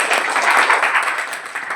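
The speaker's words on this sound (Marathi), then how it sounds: "जोरदार आपण टाळ्या वाजवूया" An indoor audience at an event in Parbhani applauding a guest English academy teacher, dense sustained clapping from many hands, loud and steady without a break.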